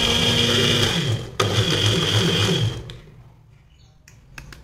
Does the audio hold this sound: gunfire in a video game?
no